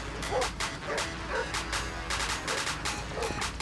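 A dog barks repeatedly in a video game, a steady run of sharp yaps at an even rhythm over constant background game noise, fairly close and prominent.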